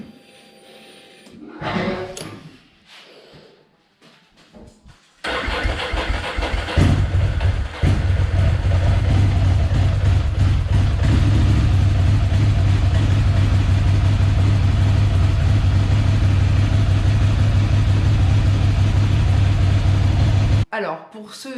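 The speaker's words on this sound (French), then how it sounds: "On presse le bouton start et ensuite on actionne l'accélérateur et jamais l'inverse." A Ducati motorcycle engine starts up after a few seconds of quiet and low sounds, then settles into a loud, steady idle that continues close by for about fifteen seconds before cutting off.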